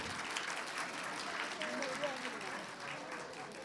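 Audience applause at a Tamil-language annual school celebration, a steady wash of many hands clapping at once, sustained and fairly even through the whole stretch with faint speech underneath.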